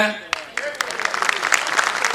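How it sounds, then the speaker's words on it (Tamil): Applause from an audience at a Tamil debate stage event, a dense patter of many hands clapping that builds and stays steady, heard at moderate distance with some voices mixed in. "நல்லா கைதட்டுங்க பார்ப்போம்"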